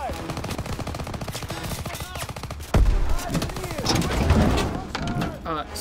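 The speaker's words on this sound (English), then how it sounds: "I want to get in the half-track MG." Rapid machine-gun bursts from a half-track mounted gun in Call of Duty, loud repeated automatic fire with a heavy boom midway, while someone talks over the shooting.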